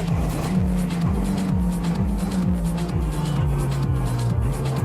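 A Renault Clio R3T race car on a circuit, engine loud and close with a strained tone and rapid downshift blips as it brakes hard into a chicane, sustained with no pauses.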